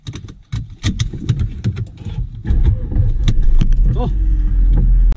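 A car pulls away and drives off with a dog inside, low engine rumble building steadily and staying loud, with short bursts of speech and small cabin knocks near the start.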